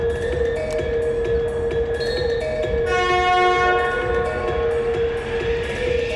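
A Lithuanian Railways train rolls past with a continuous heavy rumble while its horn sounds loudly, with a sustained blast joined midway by a brighter chord. No voices are heard.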